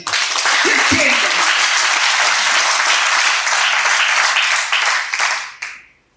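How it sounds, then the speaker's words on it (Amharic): A worship congregation at a holiday church service bursts into loud sustained applause and clapping, with voices cheering under it, before it abruptly cuts off. "ከዛ 5ኛው ቀን ላይ ቆሞ እስኪ አጨብጭቡ።"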